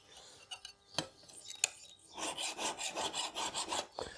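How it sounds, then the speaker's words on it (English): A metal file rasps across the edge of a Japanese gardening tool, first a few separate scrapes, then a run of quick, steady back-and-forth strokes, close and fairly quiet with no talk. "I'm going to use a file to get it flat, to get a flat edge"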